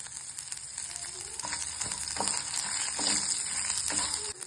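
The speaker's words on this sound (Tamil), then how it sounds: "புளியும் கடலக்கட்டையும் போட்டு நல்லா வதக்கலாம்" Tamarind and peanuts sizzle steadily as they are sautéed in a pan, a continuous bright frying hiss with a few soft stirring scrapes.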